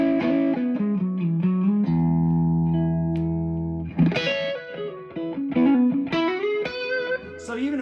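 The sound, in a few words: electric guitar through a pedalboard with heavy echo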